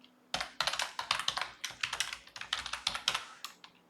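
Close, rapid typing on a computer keyboard while writing Java code, with quick irregular bursts of crisp key clicks and short pauses between runs, no talking.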